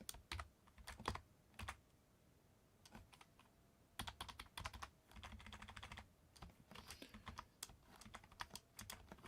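Bursts of clattery typing on a kit-built hobby computer keyboard, close and fairly quiet, with irregular rapid keystroke runs separated by short pauses and no talking.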